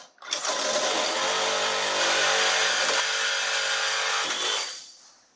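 A saw cuts a steel cross member out of a Land Cruiser chassis during a rear 4-link conversion, giving a loud, sustained, buzzing metal-cutting whine that starts abruptly, runs steadily for about four seconds with a brief dip midway, then winds down.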